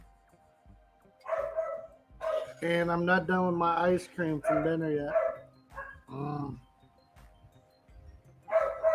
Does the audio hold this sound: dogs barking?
yes